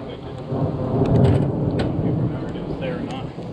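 Thunder rumbles low and long through a thunderstorm with steady rain, heard outdoors on a roofing job site, a deep swelling roll that peaks and fades under continuous rainfall.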